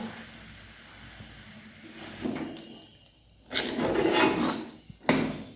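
Jaggery being stirred into chana dal puran for Maharashtrian puran poli in a pan on the stove, giving soft rubbing and scraping strokes that come in irregular bursts, louder toward the end, with no talk.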